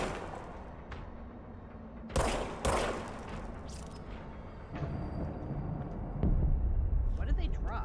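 Gunfire from the Service Weapon in the video game Control: a few sharp, loud bursts near the two- and three-second marks, then denser rumbling action toward the end, set over ongoing game ambience.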